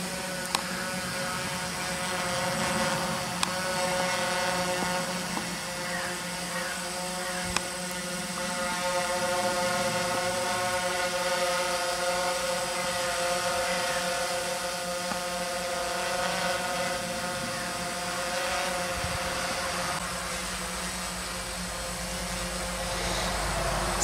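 A DJI Phantom quadcopter drone on an F450 frame flying on a 6600 mAh LiPo pack, giving a steady, loud multi-tone motor and propeller whine that holds constant throughout with slight pitch wavering.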